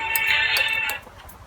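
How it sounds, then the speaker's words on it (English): An electronic ringtone trills for about a second over a quiet background, then cuts off. "Your phone's ringing."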